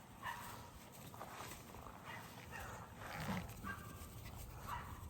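A puppy whimpers outdoors during training, giving faint, thin, high whines several times over a soft, steady background hiss.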